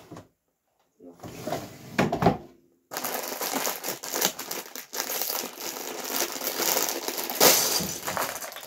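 A plastic packet of building blocks is torn open, with crinkling, rustling plastic and loose pieces rattling close by, mixed with a person talking.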